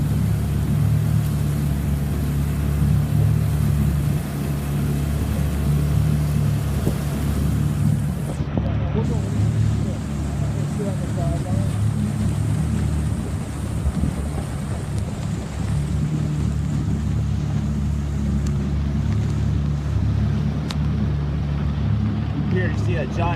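Rescue boat engines drone steadily through floodwater north of Houston near Spring, Texas, during Hurricane Harvey, a continuous low motor hum with wind buffeting the microphone throughout.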